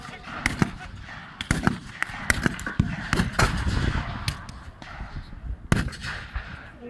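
Repeated sharp bangs of rifle fire and cannon shots sound in irregular bursts at a Boer War battle re-enactment, some close and loud, others softer in the distance.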